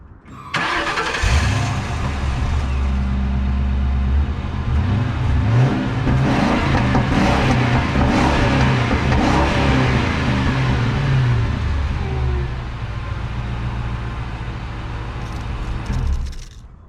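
Ford Crown Victoria Police Interceptor with a naturally aspirated 4.6-liter two-valve SOHC V8 and four-speed automatic, heard starting up and pulling hard from inside the car, a loud steady low engine drone that holds for about sixteen seconds before easing off.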